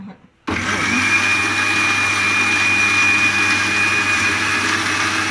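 A new mixer grinder whirs steadily at close range after a brief quiet start, its motor hum constant with a thin high whine running throughout.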